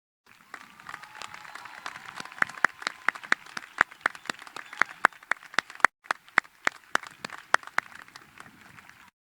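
Graduation ceremony applause from the audience honoring summa cum laude graduates: steady crowd clapping with many sharp individual claps standing out, building after the first second and continuing to the end with a brief dip near six seconds.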